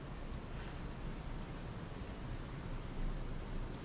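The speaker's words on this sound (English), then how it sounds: "It's not raining hard, but it's raining." Steady, soft rain patters continuously at Navarre Beach, a light even hiss with no other sounds standing out.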